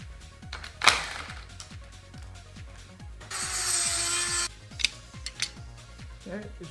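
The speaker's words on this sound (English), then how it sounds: "I just finished cleaning and scrubbing all 6 of the bolts with alcohol and a brush." Steering rack bolts from an EK being scrubbed with a brush and alcohol: a dense run of quick, close scratchy strokes with sharper clatters, plus a steady hissing spell midway, and no talking.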